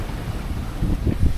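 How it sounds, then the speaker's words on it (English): Ocean swell and waves rush past a sailboat running wing on wing off Hawaii between Hilo and Honolulu, a steady loud roar of water mixed with heavy wind buffeting on the microphone and low surging thumps. "We got some pretty big swell and waves here, so Trevor's doing a great job of trying to"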